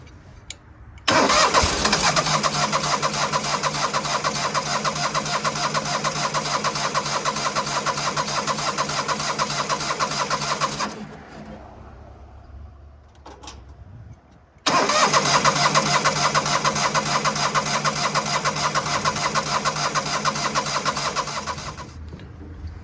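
A 1970s skid steer engine cranking over and over without catching: two long, loud, close bursts of rhythmic starter churning, each around ten seconds, separated by a short pause of near silence.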